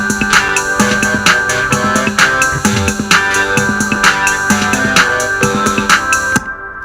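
Chorus of a student song project for a music class, played back as a full mix with steady repeating beats and layered chords and melody, loud and continuous, cutting off abruptly near the end.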